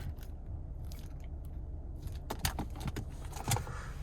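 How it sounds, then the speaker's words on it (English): A key fob with remote start for a 2026 Chevy Blazer 2LT, handled close by: soft, faint metallic jingles and small clicks, clustered near the end, in a quiet interior. "here's the key fob with remote start"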